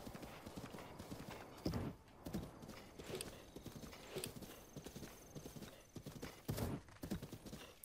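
Horses in the video game Zelda Breath of the Wild, steady clip-clop hoofbeats running through the whole stretch with an occasional whinny, fairly close and with no talk over them.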